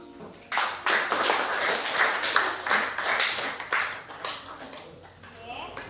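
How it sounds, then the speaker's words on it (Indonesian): A group claps together in a lively round of applause, close and fairly loud, sustained for several seconds before tapering off. "Beri tepuk tangan yang meriah untuk kita semua."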